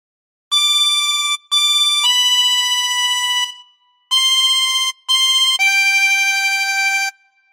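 Clear, reedy notes on a 24-hole tremolo harmonica in a short phrase of "Silent Night", held tones in separate bursts with brief gaps; no voices.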